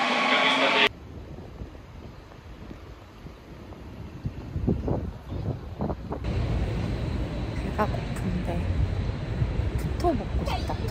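Steady low rumble inside a moving train, continuous and fairly loud, with a brief louder burst at the start and faint clicks and rattles over the running noise.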